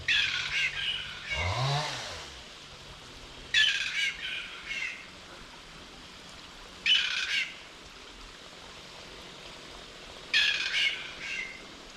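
Loud, harsh squawks from a pair of kākā parrots in Dusky Sound, New Zealand, in short bursts a few seconds apart, with a low warbling call early on and steady background hiss between calls.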